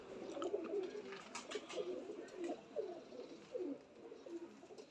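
A pair of Teddy pigeons cooing close by, soft repeated throaty coos in a loose rhythm, fairly quiet with faint background noise.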